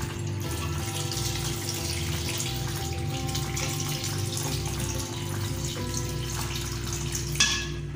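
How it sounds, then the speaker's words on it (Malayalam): Water is poured into a cooking pot for a Kerala fish-head curry and tapioca meal, producing a steady, close gushing and splashing stream that runs for several seconds without voices. "ഇതിലേക്ക് നമുക്ക് വെള്ളം ഒഴിക്കാം."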